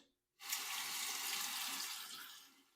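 A razor rinsed under running tap water, a steady close hiss of flowing water that starts abruptly and continues, fading slightly at the end.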